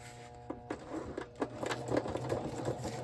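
A sewing machine stitches a fabric journal base with a quarter-inch seam, running in short bursts with mechanical clatter and several pauses, close up and moderately quiet.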